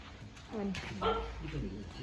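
A dog gives a few short yipping barks and whimpering sounds, close by, mixed with a person talking at home.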